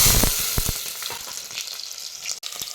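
Mustard seeds and urad dal sizzle and crackle in hot oil in a clay pot, with a loud, dense fry and sharp pops at the start that ease into a steady hiss.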